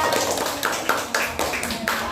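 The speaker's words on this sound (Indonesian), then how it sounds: "tepuk tangan buat kelompok 2" A classroom group gives uneven applause for the second student team, with scattered, irregular claps and taps rising and falling close by, mixed with some voices.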